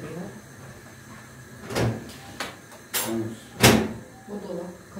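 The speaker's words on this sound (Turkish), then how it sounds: "Bu dolap kapatırken gıcır gıcır ediyor." Kitchen cabinet door creaking as it is closed during cooking, heard as a few short close squeaky bursts over low background noise.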